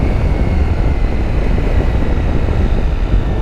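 A Ducati Multistrada V4S motorcycle engine drones at high revs in too high a gear while riding, a loud, steady low rumble mixed with wind rush and no breaks.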